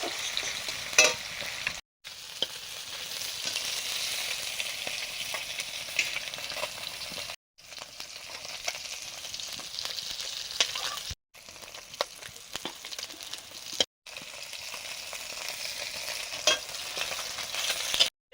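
Onions frying in a pan for a Bengali lentil dish, a steady close sizzle with stirring scrapes, broken by a few brief pauses.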